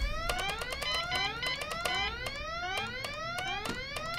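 An alarm ringing in the point-and-click game Goodbye Deponia, a rapid repeating electronic warble of rising sweeps, loud and continuous throughout with no talk.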